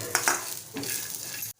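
Onion and coconut roasting and being stirred in a pan for a Malvani sprouted chana usal, a steady close sizzle with a few scraping stir strokes, cutting off abruptly near the end.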